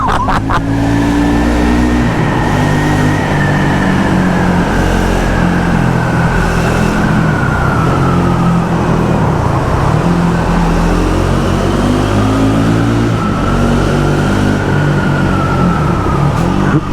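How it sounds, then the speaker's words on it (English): A 2024 Triumph Speed 400 motorcycle engine accelerating hard up a hill, loud and close, with a continuous droning roar and a slowly shifting pitch throughout. "Right, let's accelerate up the hill, see what it's like."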